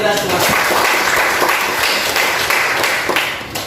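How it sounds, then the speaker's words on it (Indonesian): Students in a classroom clap together in a loud, dense burst of applause lasting a few seconds, with voices mixed into the clapping. "Oke, tepuk tangan untuk kita semua."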